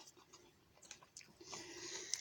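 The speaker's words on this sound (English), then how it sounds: "See if I can take a little bite just to see." Crunchy, undercooked ramen noodles with beans are bitten and chewed close up, giving several soft, irregular crunches that build in the last second before a sharper crack near the end.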